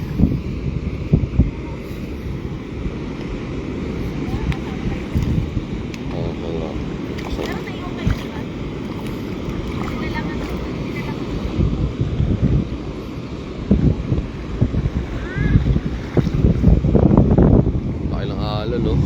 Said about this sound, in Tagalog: Narinig ang laki ng alon.